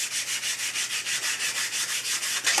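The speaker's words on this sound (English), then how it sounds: "I will do some final smoothing with just a fine 220 grit sandpaper." Fine 220 grit sandpaper smoothing a balsa wood boomerang blade, a steady run of rhythmic close-up rubbing strokes, about a dozen even back-and-forth passes with a slightly louder scrape at the end.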